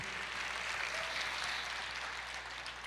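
A church congregation claps together in a sustained, dense burst of applause, steady and fairly even from start to finish, with no clear speech on top.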